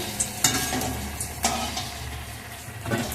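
Pumpkin flower fritters (bora) fry in hot oil with a steady, close sizzle, broken by a few sharper crackles and stirring clatters, and no talking.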